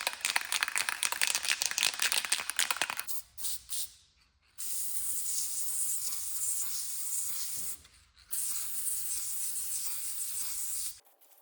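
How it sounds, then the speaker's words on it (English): Copper gasket sealant sprayed from an aerosol can onto head gaskets during a 1963 Corvair engine rebuild: several sustained hissing bursts, close and steady, separated by short pauses. "I'm going to spray them with this copper spray a gasket"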